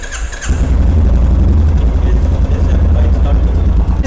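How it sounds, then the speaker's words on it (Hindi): A motorcycle engine starts and settles into a loud, steady idle close by, with a short quieter lead-in before the engine catches. "तो कैसे भी आप बाइक को ऑन कर रहे हैं"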